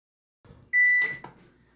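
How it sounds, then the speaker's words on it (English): A single sustained oven timer beep rings out loud and clear for about half a second, with faint kitchen clatter before and after. "So there's our timer."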